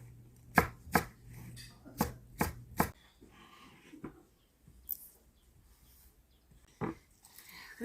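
Sharp knife chops through green onions on a cutting board in a quick run of five or six strokes, then a few scattered cuts amid quiet kitchen noise.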